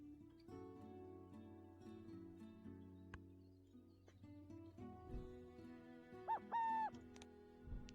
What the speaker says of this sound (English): Play the owl. Burrowing owl.